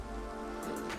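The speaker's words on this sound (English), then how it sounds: "and it's raining" Steady rainfall in the Minecraft video game, a dense, even hiss lasting throughout, with a few faint ticks near the end and no talk.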